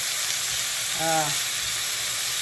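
Beef pressed flat in a hot skillet sizzles steadily close by, a continuous bright frying hiss with a brief scrape midway.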